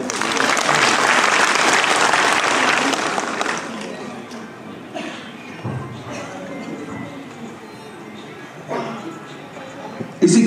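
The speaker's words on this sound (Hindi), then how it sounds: "आप सभी की पुनः जोरदार तालियां।" An audience gives loud applause at a Cancer Survivors Day event in a Jaipur hospital; dense clapping for a few seconds fades into scattered claps, murmuring and voices, and a final burst comes near the end.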